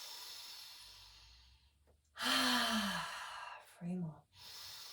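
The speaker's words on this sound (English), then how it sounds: "we breathe in through the nose, out through the mouth, from the back of the throat" During a meditation, a person draws a soft breath in through the nose, then releases a long, loud, voiced exhale through the mouth from the back of the throat, followed by a shorter second one, close and alone.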